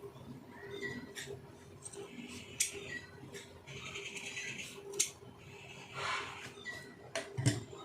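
A sewing machine stitches fabric for a pom pom sleeve, giving quiet, rapid mechanical clicking in short uneven bursts with small pauses between runs.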